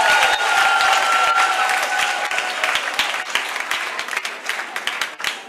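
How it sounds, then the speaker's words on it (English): Applause from the audience at a nursing and midwifery training college's fiftieth anniversary event, a dense crowd of clapping that starts strong and gradually thins toward the end. "give a hand of applause to us all."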